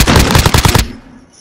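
Rapid burst of automatic gunfire in Call of Duty: Modern Warfare, loud and close, about eight quick shots over under a second before cutting off into a faint tail.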